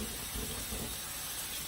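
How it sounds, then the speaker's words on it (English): Salisbury steak patty sizzling in a hot pan, a steady close hiss of frying fat running evenly throughout with no talk over it. "See it in the pan? Sizzle,"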